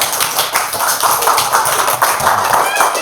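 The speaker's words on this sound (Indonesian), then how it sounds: "silakan diberi tepuk tangan untuk Mas Habil" A classroom of students applauds for a classmate named Mas Habil during a lesson, a steady burst of many hands clapping close by that fills the whole moment.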